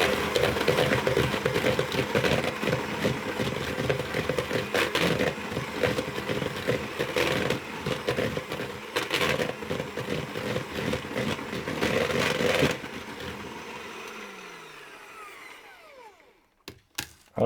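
Almond pastry mixture being whisked in a bowl, a steady run of scraping, rattling strokes for about thirteen seconds that then stop, leaving a few faint clinks near the end.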